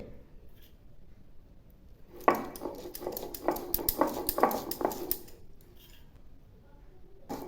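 Mustard and poppy seeds ground into a fine paste make a run of rhythmic scraping, grinding strokes for about three seconds, close and fairly loud, with quiet before and after.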